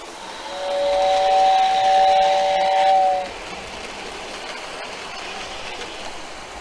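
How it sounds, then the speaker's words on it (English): One long shrill steam whistle from a Lionel 6466W model train tender, lasting about two seconds, then fading to a low background hum. "So we've got a nice whistling tender once again."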